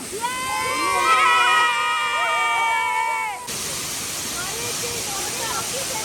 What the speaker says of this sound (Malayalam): ഇവിടുന്ന് വെള്ളം വരുന്ന കാണാൻ അടിപൊളിയല്ലേ